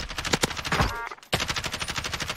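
Rapid automatic gunfire in Warzone, a loud burst of tightly spaced shots with a short pause before another long, evenly rhythmic volley rattles on close up.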